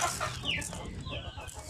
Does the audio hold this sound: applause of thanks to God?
no